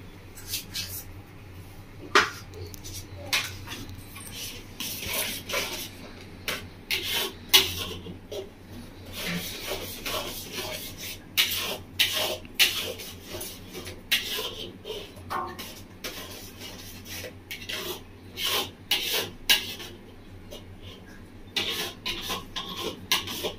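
A wooden or metal spoon scrapes and rubs around a pot of mango-flavoured Bengali kheer with cardamom powder, stirring steadily in a continuous irregular rhythm of close, moderately loud scrapes and taps.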